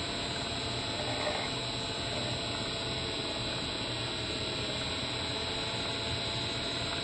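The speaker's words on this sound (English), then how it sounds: "run the motor up again with that capacitor in the circuit" A slow-turning electric motor with a capacitor wired into its circuit runs with a steady, even whine and hum. The sound stays at one level throughout, with a faint high squeal on top.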